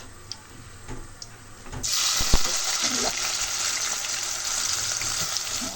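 Chopped onion hits hot oil with cinnamon and bay leaf for a chicken curry, bursting into a loud, steady sizzle after a quieter start, with a few clinks of a utensil and a voice speaking underneath.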